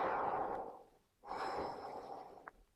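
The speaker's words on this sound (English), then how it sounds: "We can also recognize and test a good intake of breath by observing the breathing sound" A dark, soft intake of breath, drawn in twice with a short silent gap between, close and quiet with no voice over it.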